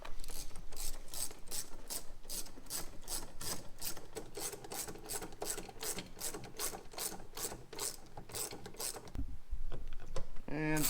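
A ratchet drives the final screw into a Buick Lacrosse door panel with a fast, even run of close clicking for about nine seconds, then stops with a soft thump and light handling noise.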